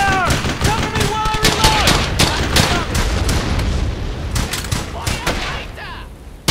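Rapid gunfire and explosions from the World War II shooter game Brothers in Arms: Hell's Highway, dense bursts of shots sustained throughout with shouted voices mixed in.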